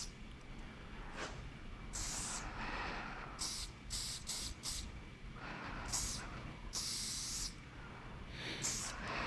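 Short and longer bursts of hissing from a spray paint can laying down graffiti, fairly close, irregularly spaced with pauses between sprays, quiet overall with faint background noise.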